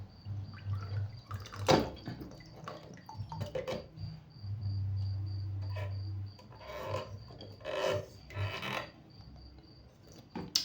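Water drips inside a toilet tank that has been overflowing, with several scattered drops and small splashes, fairly close and quiet, alongside faint scraping and handling noises.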